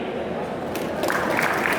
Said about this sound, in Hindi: धन्यवाद आपकी जोरदार तालियों के लिए।